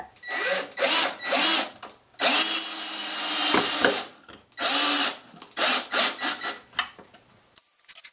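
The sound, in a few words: power drill driving screws into a pallet wood star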